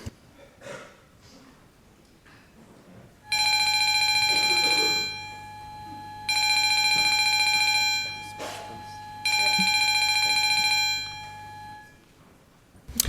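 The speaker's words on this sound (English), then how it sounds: "A division has been called. Ring the bells." Three long bursts of loud electric parliament division bells ringing at a youth parliament, each lasting a couple of seconds with short pauses between, over faint background murmur.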